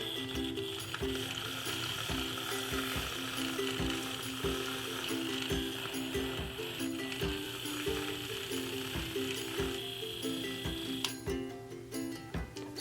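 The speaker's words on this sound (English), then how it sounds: "now I'm gonna take my hand mixer, which you guys have probably seen before. It's the little electric one, and I'm just gonna mix this up" A small electric hand mixer whirs steadily as it beats cream in a bowl, a continuous motor drone with rhythmic ticking and clattering of the beaters against the bowl throughout, close and moderately loud.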